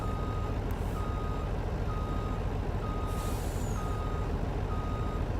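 A logging truck in Farming Simulator 19 reverses slowly, its backup alarm giving evenly spaced beeps, about one per second, over a steady engine drone, with a brief hiss of air partway through.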